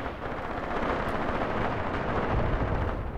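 Mortar fire on a World War II Mius Front battlefield in Graviteam Tactics, heard as a steady, dense rumble of distant explosions and gunfire with no distinct single impacts.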